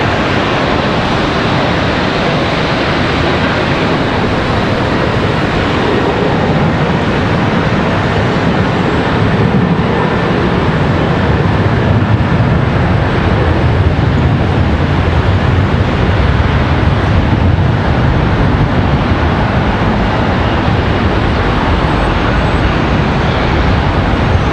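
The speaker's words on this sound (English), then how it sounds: "Be our third 777 of the afternoon departing." A Boeing 777 airliner departs Charlotte Douglas airport with a loud, unbroken broadband jet roar that holds steady throughout, swelling slightly midway.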